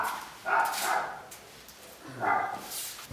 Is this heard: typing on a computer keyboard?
no